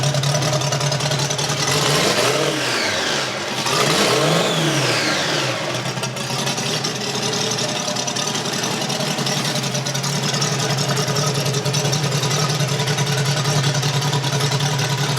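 A custom 1920s-style bike's two-stroke engine running on 99-octane fuel with a special two-stroke mix, revving up and down in a couple of sweeping bursts before settling into a steady, loud idle.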